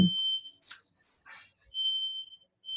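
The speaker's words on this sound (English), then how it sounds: "our fire alarm's going off in our house right now" A high-pitched smoke alarm beeps in a few sharp bursts, with brief scuffling and other noises in between.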